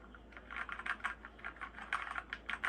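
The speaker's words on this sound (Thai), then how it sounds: "เดี๋ยวเราจะลองพิมพ์นะลองฟังเสียงนะ" Soft, rapid typing on a Keychron K4 v2 mechanical keyboard with quiet switches, a steady stream of muted key clicks at close range with no voices.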